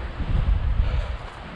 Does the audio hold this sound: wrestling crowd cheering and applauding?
no